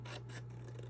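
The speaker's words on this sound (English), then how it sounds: "Cut this piece out." Scissors cutting paper to make a small box: a quick run of three or four crisp snips within a second, close and quiet.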